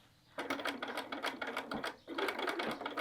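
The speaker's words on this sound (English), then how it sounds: "head over to your machine and we're going to sew those in" A sewing machine stitches pockets onto a fabric town bag, running in two quick, rattling bursts with a brief pause between them, heard close and alone.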